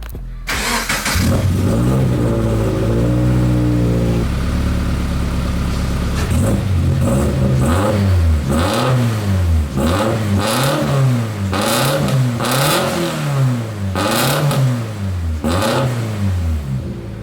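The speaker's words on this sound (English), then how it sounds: "I might as well give you guys a quick exhaust clip before we rip it off" A turbocharged Toyota FRS engine fires up and idles, then its stock exhaust is revved repeatedly, the pitch climbing and falling in loud, close bursts.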